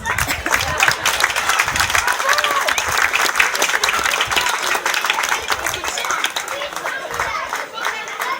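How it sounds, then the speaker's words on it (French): An audience claps loudly and continuously at a village fair in Crucey, a dense, sustained wave of applause with some crowd chatter mixed in, close and full throughout. "on applaudit"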